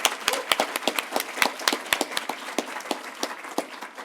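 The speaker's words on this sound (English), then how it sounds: "So a big round of applause," A conference audience claps for its keynote speakers at a Python data event, loose and brisk applause from a modest crowd that fades and thins toward the end.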